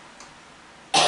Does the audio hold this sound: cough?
yes